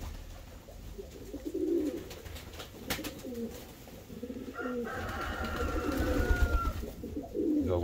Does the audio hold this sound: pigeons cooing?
yes